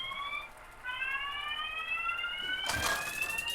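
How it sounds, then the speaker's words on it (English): A fire alarm, set off by too much steam, sounds as a run of high, shrill electronic tones in repeating rising chirps, with a sudden burst of noisy clatter near the end. "Is that a fire alarm?"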